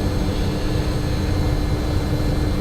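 Steady jet engine drone from a simulated MD-80 in X-Plane 10, holding at a high throttle setting as a continuous, even roar with no talking.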